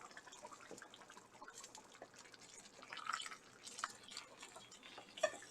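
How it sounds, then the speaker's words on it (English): Tomato sauce pours from a container into a pan, thick liquid glugging with soft irregular splats and drips, quiet and close, no voices. "I'm just going to go ahead and pour some of that tomato sauce on top"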